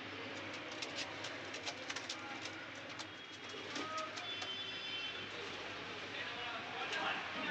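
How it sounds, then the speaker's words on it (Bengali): Breeder pigeons coo softly in a loft, low and fairly distant, with faint clicks and flutters under a steady background hum. "সব ব্রিডার কবুতর, সব বন্ধুরা ব্রিডার কবুতর।"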